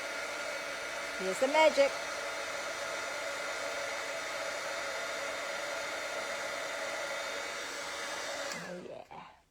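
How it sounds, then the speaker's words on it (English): A heat tool melting gold embossing powder on a Christmas card blows a steady, loud airy whoosh for several seconds before switching off, with a brief spoken remark near the start. "and then we're going to heat emboss this until it changes."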